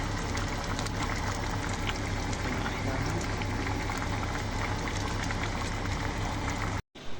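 Stuffed eggplant mahshi simmering in broth in a pot, a steady close bubbling and hissing boil with a constant low hum, cut by a brief gap near the end.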